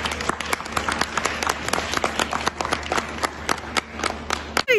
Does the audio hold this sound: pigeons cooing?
no